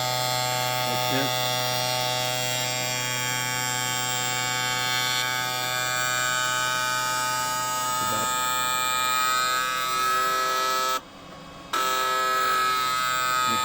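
Sparx ES100 skate sharpener running a sharpening cycle, a steady close electric buzz with layered motor hum, a few small clunks as the wheel travels, and a short dip near the end.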